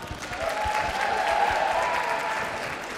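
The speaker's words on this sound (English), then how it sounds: "give yourself a round of applause" Audience applause at National Student Pride, a steady wash of clapping from a large crowd lasting throughout, fairly even in level with a faint tonal sound running beneath.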